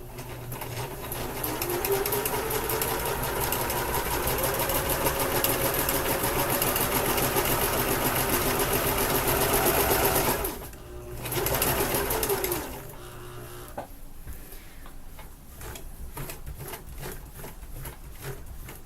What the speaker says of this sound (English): And this is how I would actually kind of technically serge my fabric as well, using just a basic sewing machine.